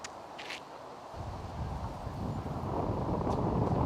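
Strong wind gusting across an outdoor disc golf course during a South Florida tournament round: a steady, loud roar of wind buffeting the microphone that swells and grows heavier toward the end, with no talk.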